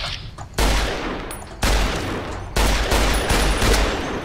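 Gunfire in Fallout New Vegas, three loud close bursts of shots about a second apart, each followed by a sustained rumbling roar with no talking.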